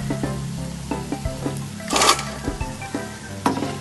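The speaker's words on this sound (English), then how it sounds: "pastry into the hot oil and fry until golden brown." Tornado crispy pastry frying in hot oil, a close, steady sizzle with small pops and crackles and a brief louder hiss burst partway through, with no talking.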